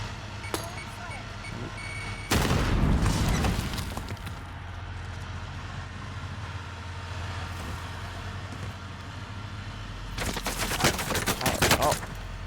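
Gunfire in the Warzone video game, with two loud bursts of rapid shots separated by a stretch of quieter ambient game sound.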